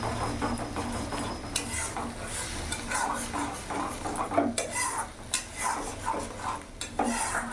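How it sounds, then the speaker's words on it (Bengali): A spoon stirs mustard-poppy and cashew paste into okra in a pan, with repeated scraping and clinking against the metal over a soft sizzle, close and fairly loud. "ভালো করে এভাবে মিশিয়ে নেব।"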